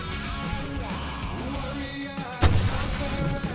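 Gunfire in the Alan Wake video game, a burst of loud bangs and booms that hits sharply partway through, over a busy background of game noise with shouting.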